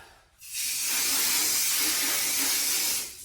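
Pressurized water spray rinsing a car from the top down, a steady loud hiss starting after a short pause and running about two and a half seconds before cutting off.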